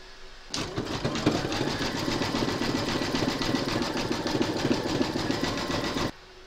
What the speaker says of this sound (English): pop your hoop into your machine and stitch round number 11, and that's going to zigzag along this stitch line